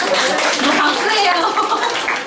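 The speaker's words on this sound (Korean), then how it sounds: "박수예요." At a church youth retreat, a group of middle school students claps with brisk, dense hand claps that sound close and lively, with some voices mixed in.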